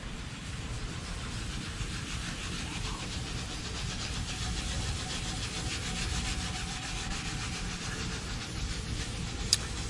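A few drops of finish being rubbed into the wood of a brass-topped table by hand, a steady, soft, continuous hiss of rubbing with no talk.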